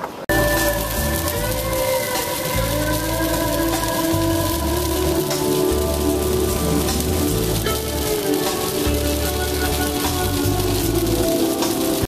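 Steady, dense rain pattering on a surface in Iowa City, continuous and fairly loud throughout, with no talking.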